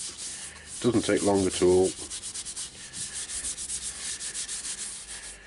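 Sycamore bowl on a stationary lathe being scrubbed with Yorkshire Grit, producing a steady rhythmic gritty rubbing close to the mic. Someone speaks briefly over the start of the scrubbing.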